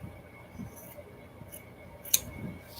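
Scissors cut through paper for artist trading cards, giving one crisp, close snip against a quiet room with faint handling rustles.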